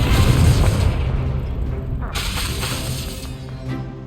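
Incendio fire spell blasting in Hogwarts Legacy, a loud booming burst up front that rumbles and crackles on for several seconds of battle noise, with a second flare partway through and a voice talking over it.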